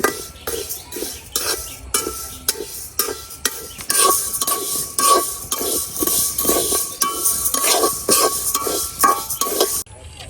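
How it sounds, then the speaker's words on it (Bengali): Mung dal dry-roasting in an ungreased pan, stirred with a utensil in a steady run of scraping, rattling strokes, close and fairly loud, with no talk. "এখন এই মুগ গুলারে আগে একটু শুকনা খোলায় ভাজা"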